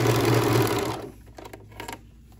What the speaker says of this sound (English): overlocking this edge. It's gonna trim fabric as we go, which is really cool.